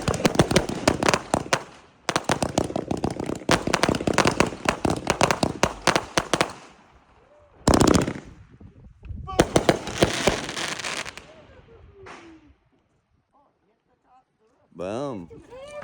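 Fourth of July fireworks and firecrackers burst in dense, loud crackling volleys, stopping and starting several times, with people talking and whistling between the bursts.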